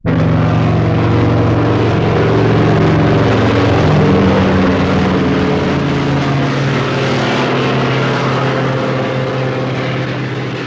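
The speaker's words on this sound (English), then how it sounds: "You can probably hear that helicopter in the background." A loud, steady rotor-and-engine drone fills the whole stretch, a continuous roar of a helicopter passing overhead with no talking.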